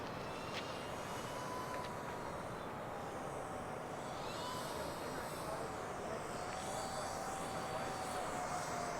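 E-flite EC-1500 twin-engine RC cargo plane with a 1.5 m span flying overhead, its electric motors giving a steady, loud whine and hum that stays constant throughout, with no voices over it.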